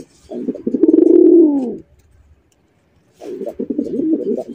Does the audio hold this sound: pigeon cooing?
yes